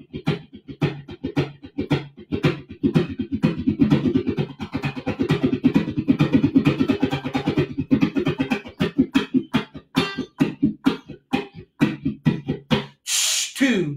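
A muted ukulele is strummed in a quick, steady chugging train rhythm for the Rock Island Line, with dry percussive strokes repeating evenly and a brief brighter accent near the end.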